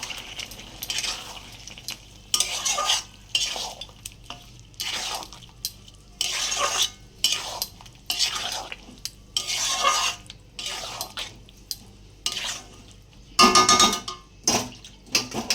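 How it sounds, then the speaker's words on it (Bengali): Fish and chopped tomato are stirred and sautéed in a pan for a village-style Bengali lote fish jhuri, with repeated bursts of spatula scraping and clattering against the pan over a faint sizzle, close and rhythmic. "টমেটো কুচি এইবার এটাকে ভালো করে কষাবো"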